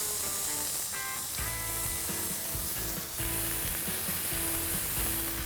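Two 4-ounce ground chuck 80/20 beef patties sizzle on a hot griddle for a burger, with a loud, steady, close hiss and crackle and no voices.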